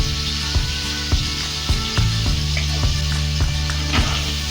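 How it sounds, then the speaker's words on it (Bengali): Potato pieces tossed with salt and turmeric fry in hot oil, a steady close sizzle broken by several soft stirring knocks of a spatula against the pan, with no voices. "লবণ আর হলুদটাকে আলুর সাথে নাড়াচাড়া করে মিশিয়ে নিয়ে আলুগুলোকে লাল লাল করে ভেজে নেব"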